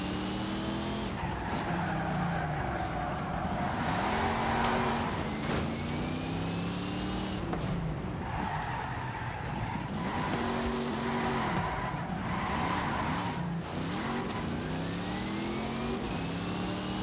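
Car drifting in Forza Horizon 5, with continuous engine revving and repeated rising and falling tyre squeals and skids over about seventeen seconds, loud and close, no talking.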